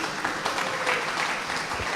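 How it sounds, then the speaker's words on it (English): Audience applause welcoming panelists onto the stage at a Big Data 2020 challenges and infrastructure panel, a dense, steady wash of clapping from a room of people lasting the full two seconds. "Let's give them a big round of applause."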